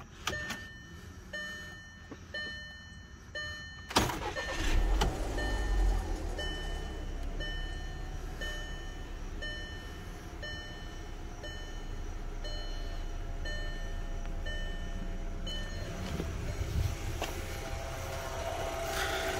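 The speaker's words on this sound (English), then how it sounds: "Now we start the car." A Volkswagen 2.0T FSI engine (BPY) cranks and catches after a quiet, faintly ticking moment, then settles into a steady, even idle that hums on to the end.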